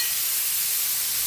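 Pork hits a hot pan and gives a loud, steady hiss of sizzling and steam, continuous and close with no voices.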